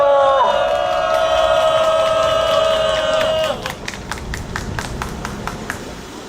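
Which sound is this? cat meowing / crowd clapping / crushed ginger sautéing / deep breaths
crowd clapping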